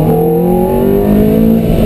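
A Ferrari F430 engine accelerating on a racetrack during a track day, a loud close-up steady drone with rising pitch throughout the short burst, no talk.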